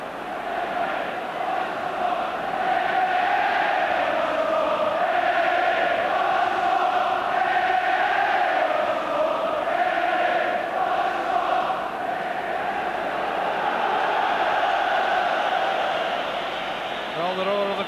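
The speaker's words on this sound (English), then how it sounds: "Well, the roar of the crowd tells you what their reactions are to the Hearts keeper." Steady roar of a football crowd at a Rangers v Hearts match, a dense continuous wash of massed voices swelling and easing over the whole stretch, with commentary talk running over it.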